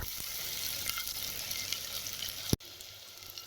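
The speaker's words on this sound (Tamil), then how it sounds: "நல்லா வதங்குற வரைக்கும் கிளறி விட்டுக்கலாம்." Onions sautéing in a clay pot for vanjaram fish curry, a steady soft sizzle with faint stirring scrapes and a sharp click near the end.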